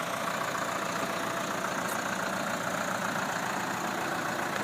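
A New Holland TD5050 tractor fitted with a front loader idles with a steady, continuous diesel rumble and a mechanical hum, loud and unchanging throughout, with no voices.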